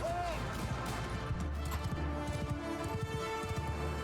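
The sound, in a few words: cavalry horses galloping in Mount & Blade II: Bannerlord video game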